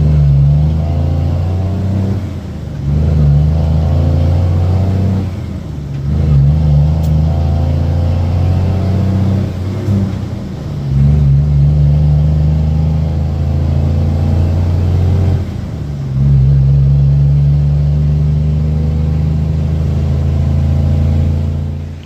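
A heavily loaded dirt-hauling truck accelerates through the gears, its loud engine climbing in pitch, then dropping at each of several shifts before pulling again, close and steady with no talk.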